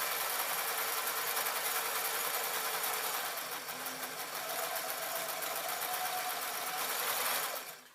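A sewing machine stitches ribbon, running steadily with a fast, even mechanical whir, close and continuous, then stops abruptly near the end.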